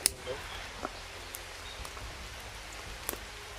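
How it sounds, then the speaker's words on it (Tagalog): Rain patters steadily on leaves and surfaces outdoors, a soft continuous hiss with scattered sharper drops, moderately faint throughout. "Grabe yung ulan."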